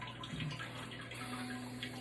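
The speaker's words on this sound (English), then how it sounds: "I need a little warm water in my asshole" Warm water runs steadily into a toilet bowl, a quiet continuous hiss and trickle with no talking.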